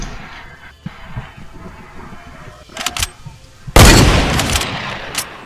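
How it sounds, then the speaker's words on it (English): A sniper shot rings out in a video game, a sudden loud broadband blast that cuts in near the end and tails off, preceded by fainter game noises and sporadic pops. "it was just a sniper out of nowhere"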